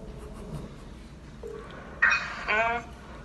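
A phone call being dialed produces a short burst of electronic dial and ring tones, loud and close, following quiet background talk.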